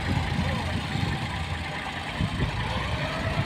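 A tractor engine idles steadily at a port where shipping containers are being loaded, a continuous low rumble with faint knocking, with voices partly audible over it.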